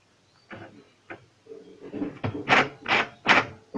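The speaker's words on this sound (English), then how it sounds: "After providing power, this printer needs some time for initialization." An HP 319 ink tank printer initializing after power-on, starting faint, then a few short mechanical clicks and whirs building into three louder, rhythmic motor pulses near the end, close and alone.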